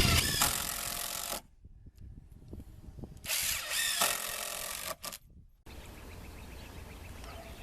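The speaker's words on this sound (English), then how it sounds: "Once you have the treads in place, we screw it down with 2 screws on either side." A power drill drives screws into the wooden stair treads of a hunting blind in short bursts, loud and close, with rubbing and handling noises in the pauses between runs.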